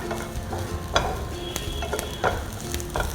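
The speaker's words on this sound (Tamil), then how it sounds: "ஸோ இப்போ இதில் நம்ம கொஞ்சம் பூண்டு சேர்த்துக்கலாம். பூண்டு ஒரு 7-8 பல்லு போட்டுக்கலாம்னு சொல்லியிருந்தேன். அதையும் லேசாக வதக்கிக்கோங்க." Garlic cloves and onions for rice upma sauté in a frying pan, a close, continuous sizzle broken by a few sharp scraping stirs of the spoon.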